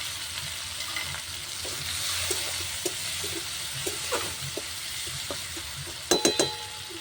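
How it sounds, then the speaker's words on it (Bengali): Chopped tomatoes with a pinch of salt sizzle in a wok over fried onions and mustard oil, a continuous hiss broken by soft stirring scrapes and a quick cluster of sharp metallic clinks toward the end. "টমেটো কুচি দিয়ে সামান্য নুন দিয়ে দেবো।"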